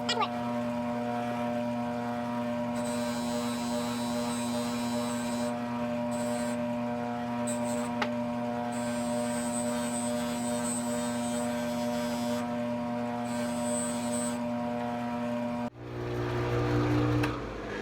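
A jewelry polishing wheel whirs steadily while buffing a Tiffany & Co. I Love You beaded edge ring, a constant motor hum with a high whine coming and going, then a louder shift near the end.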